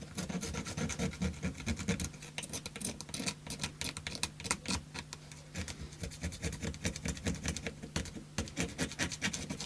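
Old glue is scraped off an Epiphone Black Beauty guitar in rapid, rasping strokes that run nearly continuously, close and moderately loud, with no voices.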